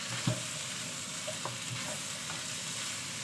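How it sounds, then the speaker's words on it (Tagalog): Vegetables for bulanglang sautéing in a pan, a steady close sizzle with occasional clinks and scrapes of a utensil stirring. "Igisa lang natin to saglit."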